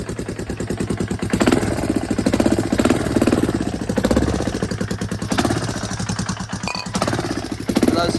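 A small engine idles close by after a carburetor clean, with a steady, rapid chugging pulse and a slightly uneven rhythm that holds throughout with no talk.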